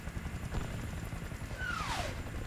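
A Hind helicopter in the shooter game Battlefield Bad Company 2 drones as a faint, steady rotor rumble, with a falling whistle sweeping over it near the end and no voices.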